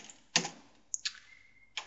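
Keys clatter on a computer keyboard in a few quiet, separate bursts of clicks with pauses between them, close and soft in an otherwise still room.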